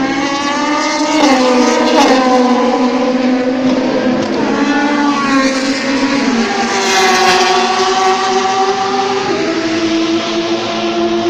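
Le Mans 24 Hours test day race cars, a Ford among them, passing close by with loud sustained engine whine rising and falling in pitch as cars sweep through, continuous and alone.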